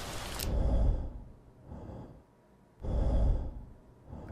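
Slow breaths heard through a stethoscope during a checkpoint exam in a zombie game, two long airy inhales or exhales a couple of seconds apart, soft and close with nothing else around them.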